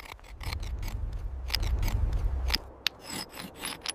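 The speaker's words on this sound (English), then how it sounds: "sharpening wooden tips into crude but deadly points" A wooden stick is sharpened into a crude point, giving a close run of raspy scraping strokes in uneven bursts, with a sharp knock near the end and no talking.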